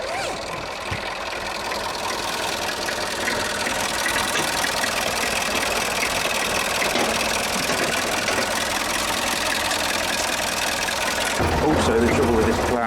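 A vehicle engine pushes a light plough on a Nordic homestead, running at a steady, labouring drone throughout with rumbling and scraping. It swells slightly louder near the end.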